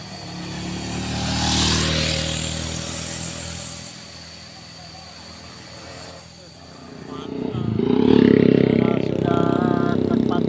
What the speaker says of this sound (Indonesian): L300 pembawa berondolan, muatan 2 ton, tancap gas terus.